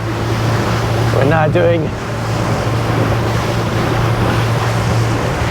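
An RS Pulse electric RIB powers across open sea with a steady low drone, heavy wind rush and water noise, while a person speaks briefly over it.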